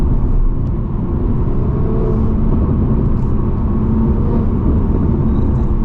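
Ford Mustang engine running in rush-hour traffic, heard from inside a car as a steady low rumble and drone with no clear revs, constant and fairly loud.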